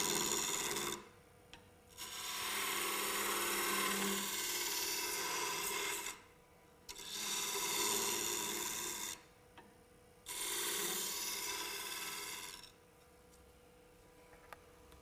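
A skew chisel cutting wood spinning on a lathe gives four bursts of rasping, shaving hiss, each a couple of seconds long and split by short quiet gaps, close by with no talk.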